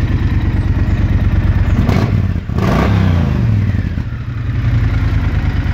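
A custom Triumph Thunderbird 1600cc motorcycle with loud aftermarket pipes idles with a deep throbbing rumble, then revs up twice with rising throaty roars before settling back to a loud idle.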